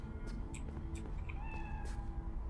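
A cat in Cyberpunk 2077 meows a few times in quick succession, soft and fairly close, over a low steady background hum with no voices.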